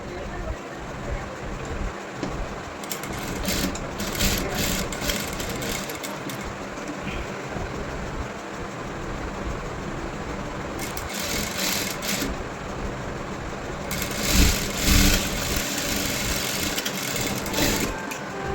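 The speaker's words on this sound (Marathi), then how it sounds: "आता 1/2 इंच अंतरावर आपल्याला शिलाई लावून घ्यायची आहे" A sewing machine stitches a blouse back-neck design, running a seam half an inch in through fabric with canvas fixed underneath; close whirring runs in three bursts between quieter pauses.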